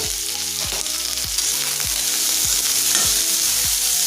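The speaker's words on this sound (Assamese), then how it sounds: "তেলখিনি গৰম হোৱাৰ পিছত মই ইয়াতে পিয়াজ দিছো। লং ইলাচি দি লৈছো একেলগে, আদা নহৰু দিছো।" Onions, cloves, cardamom, ginger and garlic sizzle in hot oil, a loud, constant frying hiss broken by regular scraping stirs about every half second, with no talking.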